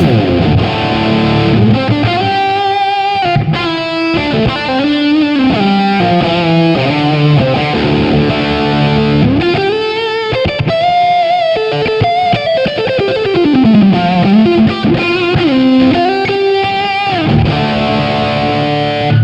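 A distorted electric guitar plays a loud, continuous lead line through a custom lead patch, with bends and sustained notes, thick and saturated, no voices.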